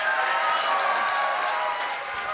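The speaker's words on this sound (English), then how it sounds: "these guys deserve some applause themselves" Audience applause for a convention voice-actor panel, a steady dense wash of clapping from a crowd, sustained and fairly loud throughout without a break.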